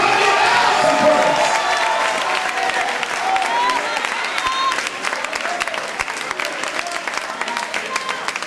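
An audience claps loudly and continuously, a dense wash of applause with some crowd noise mixed in.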